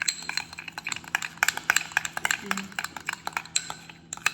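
A spoon clinking and scraping against a bowl or dish while mayonnaise is mixed, quick irregular taps and clinks close by, over a steady low hum.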